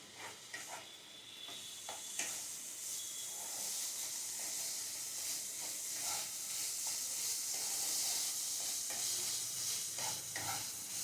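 Ground spice paste, with a little water added, fries in a pan over a gas flame for a vegetarian banana-stem dish, a continuous soft hissing sizzle with occasional stirring scrapes, fairly quiet and steady.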